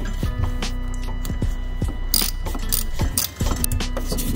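Ratchet working a 10mm bolt on the bulkhead of a Toyota GT86 engine bay, sounding as a series of close, quick metallic clicks in short bursts, with jangling tool noise and some scraping between strokes.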